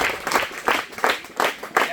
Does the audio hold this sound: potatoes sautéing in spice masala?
no